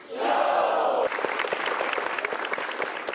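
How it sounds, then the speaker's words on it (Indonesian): A stand-up comedy show audience roars with a loud burst of cheering, then breaks into crisp, busy clapping that carries on steadily to the end. "Langsung saja beri tepuk tangan yang meriah buat Bapak Basuki Cahayapurnama"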